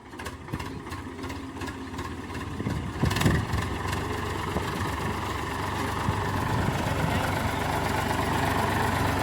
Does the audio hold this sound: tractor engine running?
yes